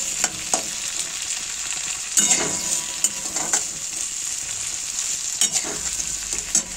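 Cumin seeds frying in hot oil on a home stove, a steady close sizzle with sharp crackles and pops breaking through every second or so, no voices.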